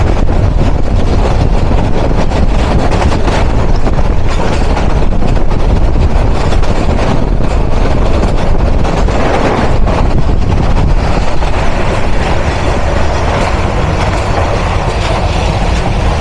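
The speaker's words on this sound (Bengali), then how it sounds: "কুড়িগ্রাম সামনে 3006 এবং পিছনে 2900 শ্রেণীর লোকোমোটিভ নিয়ে যাচ্ছে ভীষণ বিলম্ব নিয়ে।" Kurigram Express train passing with a class 3006 locomotive leading and a class 2900 at the rear, a steady loud rumble of engines and rolling wagons close by, continuous throughout with no voices.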